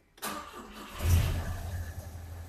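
A car engine cranks and fires up, catching with a loud low rumble about a second in and then settling into a steady run, close by with no talking.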